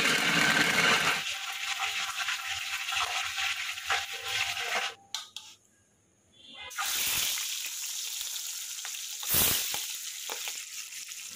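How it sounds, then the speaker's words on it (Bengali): Fish fry in a pan with a steady, close sizzling hiss that cuts out briefly midway and then returns just as loud. "মাছগুলো ভাজা হয়ে গেছে, এত মাছ ফুটছে বলার মতো না।"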